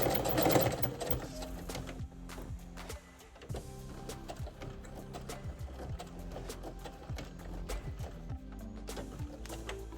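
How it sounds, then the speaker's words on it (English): A sewing machine back-stitches at the end of a seam while sewing a blazer: a close, steady motor hum with fast repeated stitching clatter that pauses briefly and then runs on. "And at the very end, you're going to back stitch."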